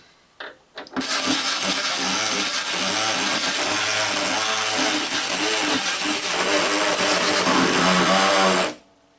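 An OEMtools ratchet tightens a bolt in one loud, sustained burst of roughly eight seconds, a harsh mechanical whir up close that starts abruptly and cuts off at the end, with no talking.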